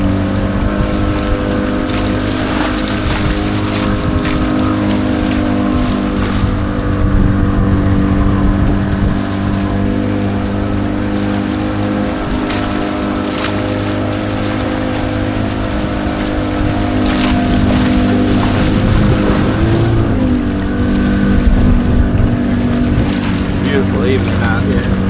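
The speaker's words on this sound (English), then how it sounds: "Nice little speedboat right here." Motorboat engine droning steadily as a Sea Ray 240 cruises over evening swells, a loud continuous hum with wind buffeting the microphone, the tone wavering slightly over the waves.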